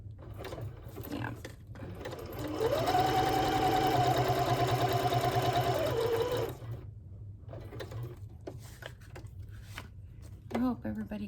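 Sewing machine running a zigzag stitch on napkins, a steady mechanical whir lasting a few seconds at moderate loudness, with quiet handling noises and brief talk before and after.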